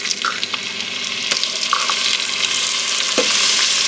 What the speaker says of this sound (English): You cook the garlic for about 1 minute or so till it starts to brown.